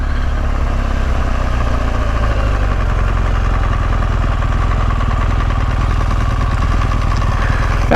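A BMW GS 1200 motorcycle engine running steadily, a loud continuous low rumble with an even throbbing pulse close to the listener, unchanging throughout.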